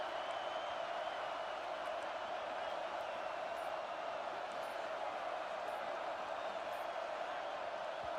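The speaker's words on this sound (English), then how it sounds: "the crowd forces a false start" A stadium crowd in College Football 26 gives off a steady, distant roar, a constant wash of noise at even loudness throughout with no distinct cheers standing out.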